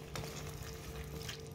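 Chicken curry being stirred in a pan, a low sizzle with soft scraping throughout, steady and close, with no voices.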